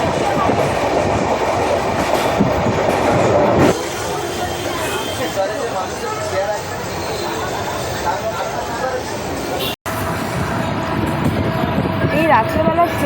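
The Sealdah–Puri Duronto Express runs through the night, heard from inside the coach as a loud continuous rumble with rhythmic rail clatter, brief shifts in tone, and people talking over it.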